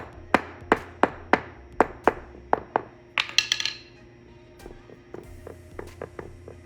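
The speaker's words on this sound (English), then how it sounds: "all we're going to do is hammer it right into the sand" An original knob part is hammered down into casting sand for an aluminum casting mold, a steady run of sharp close taps about twice a second, then a brief clattering burst and some lighter knocks.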